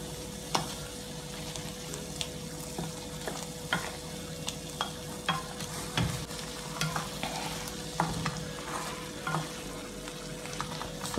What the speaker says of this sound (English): Some black pepper. We're gonna go ahead and stir.